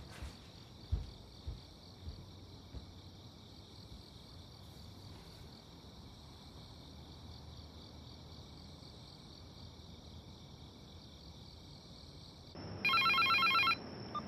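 A telephone rings with a steady electronic trill near the end, after a long stretch of quiet room tone with a faint continuous insect-like hum and a few soft knocks, in a Japanese TV drama scene.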